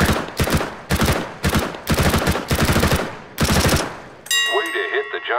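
Rapid bursts of CS:GO weapon fire on a target range, several loud close volleys in quick succession, followed by a brief ringing metallic chime at the end.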